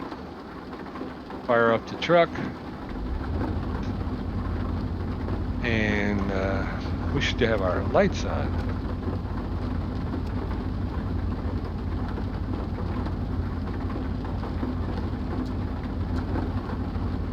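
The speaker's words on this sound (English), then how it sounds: "And it is raining as we get off of the ferry here." Steady rain falling in the Euro Truck Simulator 2 driving game at the Svolvaer ferry port in the Nordic Horizons region, a constant wash under an idling truck engine, with someone speaking briefly early on.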